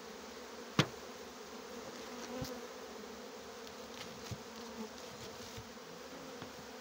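Honeybees swarm around an open beehive during a spring honey-super inspection, a faint, steady buzzing drone with a few light knocks and taps; no talk.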